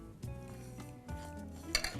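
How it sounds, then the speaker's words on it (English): Flour and ghee being mixed by hand or spoon in a bowl for puri dough, with soft scraping strokes and occasional light clinks against the bowl, close and fairly quiet, with no talking. "we just mix the ingredients together, the flour and the ghee, incorporating the ghee into the flour"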